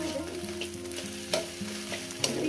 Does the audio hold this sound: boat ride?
no